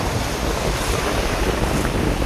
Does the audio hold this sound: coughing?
no